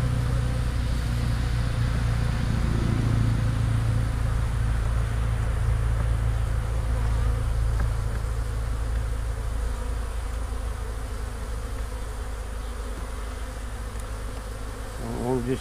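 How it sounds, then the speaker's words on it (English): A thick, continuous drone of many agitated bees buzzing close by in a top bar hive, loud, with a low engine-like hum underneath. "Too many bees at home."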